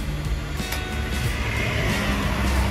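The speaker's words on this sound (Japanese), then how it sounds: "あの車の音がね見ていただいてる方うるさいかもしれないですけど" Cars pass on a road beside an outdoor, garage-style sales area of a used clothing shop in Kumamoto, giving a steady, fairly loud low traffic rumble.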